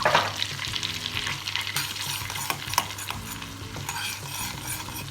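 Butter with chili flakes and mint stirred in a hot pan: a steady close sizzle with quick spoon scrapes and small clinks through the whole stretch, no voices.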